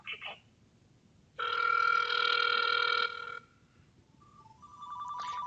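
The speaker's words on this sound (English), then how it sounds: "now you can hear my other phone ringing" A second telephone rings during a demonstration of a phone call function, giving a short electronic chirp, then one sustained bright ring burst of about two seconds, followed by fainter intermittent tones over quiet background hiss.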